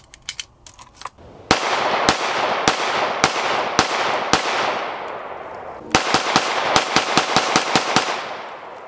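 Sig Sauer M17 pistol firing 115-grain full metal jacket rounds, heard as a slow string of about six sharp, loud shots followed by a quicker burst of roughly ten, with a few faint pops at the start.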